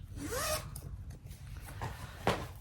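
A zipper pulled along a quilted fabric pouch in a quick rasping run, followed by a couple of shorter zips, close up.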